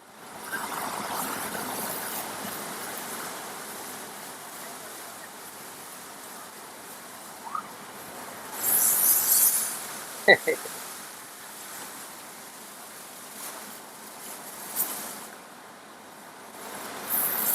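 A car drives through water as waves splash, a steady wash of broadband surging noise with a few sharper splash bursts midway.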